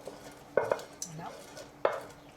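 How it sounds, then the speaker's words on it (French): A spoon clinks and scrapes against a pan while stirring octopus risotto, giving several sharp metallic taps spaced irregularly, close but fairly quiet. "Et je vais touiller."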